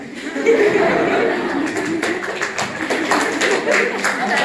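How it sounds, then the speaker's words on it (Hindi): Audience applause in a college debate hall, a dense spread of clapping sustained throughout at steady moderate loudness, with some chuckling mixed in. "तालियां मत बजाइए भाई, तालियां मत बजाओ।"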